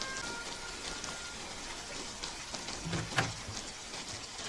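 Steady rain hisses throughout, soft and even, with a few faint thumps and a brief louder patter partway through.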